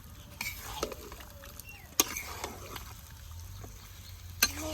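Meat being stirred and fried with spices in a pan in a village kitchen: a spoon scrapes and clatters against the metal in irregular strokes over a low background sizzle, with a few sharp clinks.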